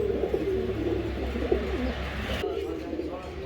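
A pair of high-quality racing pigeons cooing close by, a run of wavering low coos that stops abruptly partway through, leaving quieter background.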